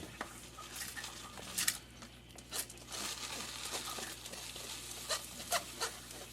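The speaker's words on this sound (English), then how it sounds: "And then I'm going to add in my lentils now." Dry lentils tip into a pot of chickpea stew, giving a scattered pattering and rustling with a few sharp clinks against the pot, moderately close, over a low steady hum and with no talking.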